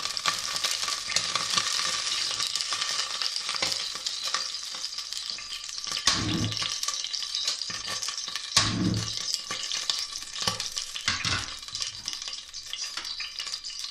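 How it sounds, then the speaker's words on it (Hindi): Finely chopped onion with garlic and ginger fries in a little oil in a deep pan, giving a dense, continuous close-up sizzle with scraping stirs and occasional louder crackles. "इसमें प्याज जो बारीक काट के रखी हुई है वो डाल दी, साथ साथ लहसुन अदरक भी डाल दिया।"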